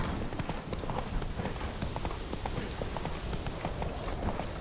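Hooves pound in a rapid, steady galloping rhythm as the horse Roach runs in The Witcher 3, loud and close over a thick bed of background noise.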